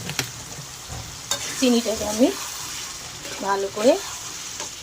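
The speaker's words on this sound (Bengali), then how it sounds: "চচ্চড়ির মধ্যে মিশিয়ে নিচ্ছি" Malabar spinach chorchori stirring and frying in fish oil in a pan, a steady sizzle with scraping stir strokes throughout, while a voice speaks briefly over it twice.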